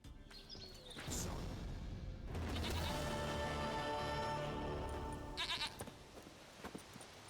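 A goat bleats in The Witcher video game, a long, wavering, loud call that swells and then fades, with a few shorter bleats trailing off after it.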